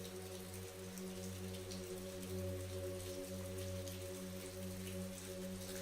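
Steady light drizzle during a rainy walk in Scotland, a soft even hiss of fine drops, constant and close with no gaps and no voices.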